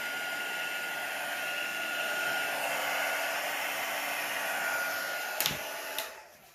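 Hair dryer blowing steadily straight down onto epoxy resin coasters, a loud continuous whooshing hum that cuts off abruptly near the end with a couple of clicks.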